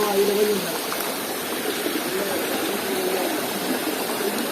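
A rocky forest stream rushes steadily over stones in a continuous, full-bodied wash of water noise, with a faint voice briefly audible near the start.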